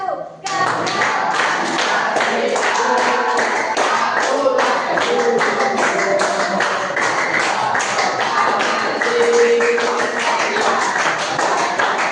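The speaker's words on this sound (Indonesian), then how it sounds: "Dengan tepuk tangan yang semangat." A classroom group of students claps hands together in a fast, dense, continuous burst of applause, loud and close, starting abruptly and sustained throughout.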